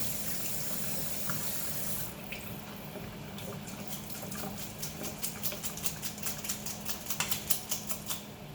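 Chicken breasts rinsed under running tap water at a kitchen sink, a steady close splash with a rapid patter of drips and clicks growing busier toward the end, no talking.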